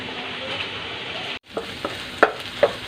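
Garlic and onion fry in oil in a pan beside cooked pork, a steady sizzle broken by a brief silence, then a few sharp clicks and scrapes as the pan is stirred.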